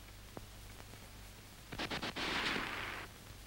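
Wartime StG 44 assault rifle fired during an assault by German paratroopers, heard as a quick string of sharp shots followed by a sustained burst of automatic fire, moderately loud with no speech.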